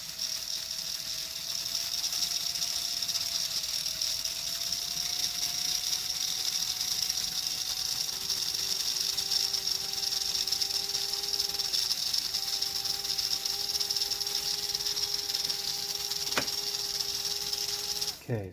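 A motor whirs steadily inside a 1956 #569 Whistling Billboard toy, a continuous hum with a high whine and a second tone joining midway, constant and close throughout before a brief click at the end.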